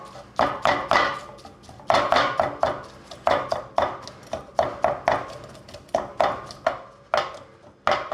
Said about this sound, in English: Chop it all up, make sure it's on the pan.